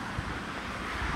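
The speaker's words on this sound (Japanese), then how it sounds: "すっごい強風の中ですね" Strong gusts buffet a microphone outdoors at Namegawa Island train station in Katsuura, Chiba, a steady low rumbling roar with slight swells and no talking.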